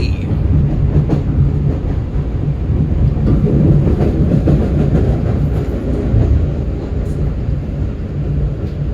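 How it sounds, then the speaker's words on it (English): Train pulling into Wonderland station, the last stop on a seaside rail line, a steady loud low rumble of rolling rail cars with faint rattling clicks, continuous throughout with no talk. "we're gonna get back on when the train gets back into the station"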